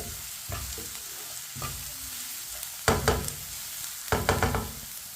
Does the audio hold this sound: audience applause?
no